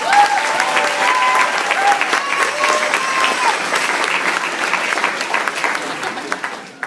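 Audience applause for a junior student band at a band festival concert, steady dense clapping filling the whole stretch, fairly loud and close, with some faint crowd murmur and a few voices mixed underneath.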